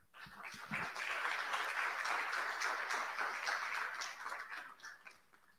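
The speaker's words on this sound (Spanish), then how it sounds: "Recibámosla con un fuerte aplauso." An audience at a conference claps to welcome a speaker, a few scattered claps swelling into steady, fairly distant applause that thins out toward the end.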